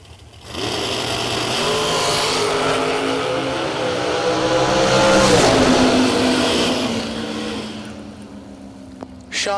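A pair of drag race cars rumble, then roar off the line together in a loud, rising engine blast that swells and fades into the distance, followed by a brief quiet and a sharp click.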